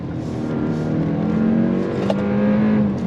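A 2026 Kia K4 GT-Line turbo hatchback accelerating under throttle, with a steady, loud engine drone that rises in pitch, heard from inside the cabin.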